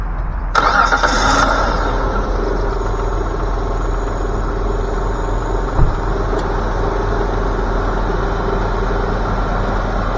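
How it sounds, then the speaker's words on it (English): A used car engine cranks and starts with a sharp burst, then settles into a steady, close idle that runs unbroken for about ten seconds. "Okay, I'll start it up and we'll listen to the engine."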